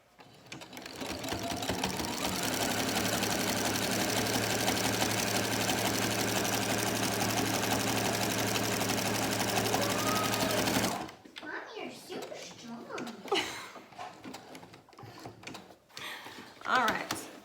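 A sewing machine runs in one steady, loud whir for about ten seconds as it stitches across the top of a fabric face mask, then stops and a person talks nearby.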